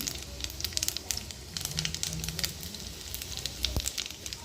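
Whole cumin seeds and asafoetida tempering in hot oil for a vegetarian aloo dum, giving a steady close crackling sizzle with dense spitting pops throughout, no voices.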